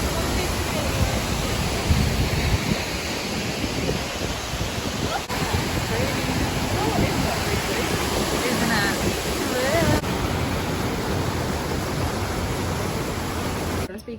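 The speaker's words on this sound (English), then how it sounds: "This is the waterfall." A waterfall at a small Balinese hotel pours steadily, a loud, broad, unbroken rush of falling water with some wind buffeting, lasting throughout.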